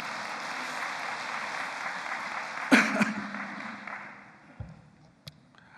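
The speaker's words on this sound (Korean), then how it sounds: "우리 사모님께 박수 한번 쳐주세요" A church congregation applauds the pastor's wife during a sermon, moderate clapping that fades out, with a sharp knock partway and a few scattered sounds afterward.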